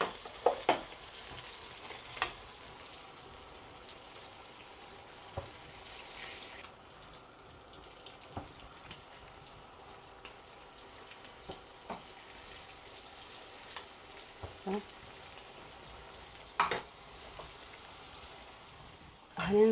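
Fresh sea bream frying in hot oil, a faint steady crackle and hiss with scattered soft clicks and taps of kitchen handling, fairly quiet throughout.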